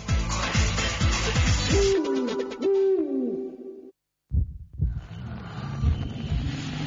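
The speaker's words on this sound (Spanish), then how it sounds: "La noche es para los búhos." An owl hoots a few times over a low rumble in a radio advert for a liqueur, followed by a brief silence and then more low noise.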